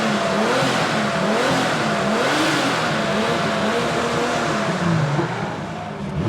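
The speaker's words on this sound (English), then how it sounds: "All right, I'm gonna rev this car while he talks about it." Twin-turbo RB25 engine in a stanced Nissan Skyline R34 revving hard and steadily, a loud sustained roar with rising and falling pitch sweeps close to the car.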